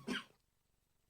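A single short cough, loud and close, followed by near silence with faint low background hum.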